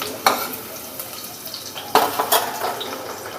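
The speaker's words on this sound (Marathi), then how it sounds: "चांगल्यापैकी हलवून घेऊ." Chicken with garlic being stirred in a pan, a few distinct spatula scrapes and knocks against metal over a soft background sizzle.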